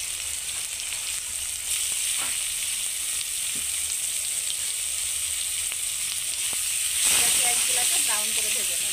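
Chopped onions frying in hot oil in a pan for a fish and jackfruit curry, a loud, continuous sizzle with a few light scrapes, surging louder with a burst of crackling toward the end.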